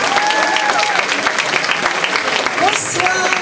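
Audience applause welcoming Miss Bourgogne 2022, Lara Le Breton, at a Miss Yonne pageant at a château: a dense, steady wash of clapping from a crowd, loud and continuous, with faint voices and a brief whistle inside it.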